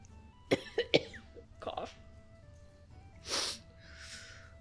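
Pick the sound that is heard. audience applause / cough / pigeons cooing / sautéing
cough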